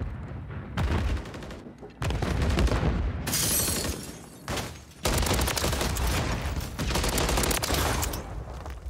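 Rapid bursts of gunfire in a first-person shooter game ring out in several loud volleys separated by short gaps, sharp cracks and rattling automatic fire dominating throughout.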